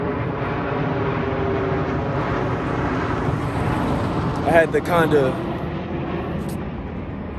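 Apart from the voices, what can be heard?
airplane flying overhead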